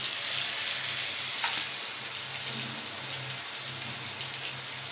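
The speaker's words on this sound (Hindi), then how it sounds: "उसको अच्छी तरह से भूजेंगे जब तक लहसुन रेड कलर का ना हो जाए" Garlic paste and chillies fry in a hot pan for a spicy chilli dish, giving a steady, close, even sizzle and crackle throughout with no voices.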